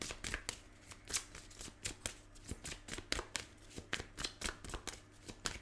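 A Romance Angels Oracle card deck being hand-shuffled up close, making continuous quick papery slaps and riffles in an uneven rhythm over a faint low hum, with no voices.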